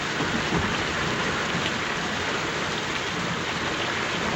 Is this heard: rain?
yes